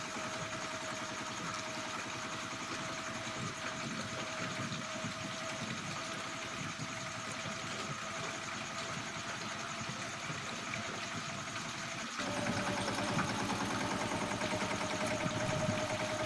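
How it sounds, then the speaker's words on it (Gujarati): A mini tractor engine drones steadily while sowing a field in the Ghed area, a constant mid-pitched hum that shifts slightly in tone and grows a little louder near the end. "મિની ટ્રેક્ટરથી સારી વાવણી થઈ રહી છે"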